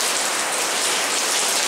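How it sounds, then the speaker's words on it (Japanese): Heavy rain pouring and roaring under a shopping arcade in Yamato-Takada during a heavy-rain warning, a dense continuous hiss of water drumming on the roof, loud and steady with no talking. "もうここ大雨でございます。"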